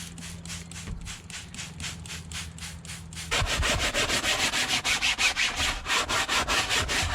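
A brush scrubs the fabric car seats of a Mitsubishi Lancer EVO 6 in steady, rhythmic strokes, switching partway through to faster, louder and harsher scrubbing, with no talking.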